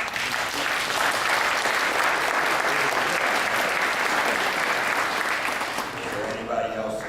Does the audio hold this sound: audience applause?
yes